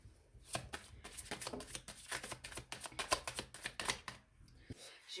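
Oracle cards being shuffled for an angel guide card reading, a run of quick crisp riffling bursts close up, with soft talk underneath in places.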